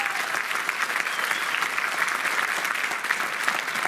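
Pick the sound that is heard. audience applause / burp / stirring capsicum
audience applause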